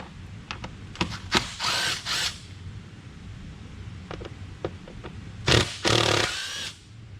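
A power tool zips out the airbox lid bolts on a 2018-23 Jeep Wrangler JL with the 3.6L engine, firing in short bursts of a few whirring seconds each, separated by quiet gaps and small clicks.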